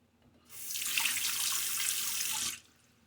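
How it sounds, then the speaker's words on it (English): Tap water runs steadily for about two seconds to rinse a safety razor during a wet shave, a broad hiss that starts and stops abruptly and is heard on its own with no voices. "Get a good rinse now."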